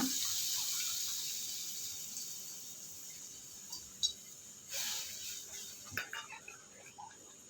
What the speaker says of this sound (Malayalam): പുളി അരിച്ചിട്ട് ഒഴിക്കുക